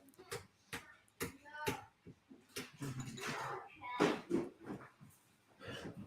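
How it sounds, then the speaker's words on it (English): A dog excitedly chasing another dog indoors, with short barks and yelps scattered across the clip alongside people's voices close by. "Crazy dog."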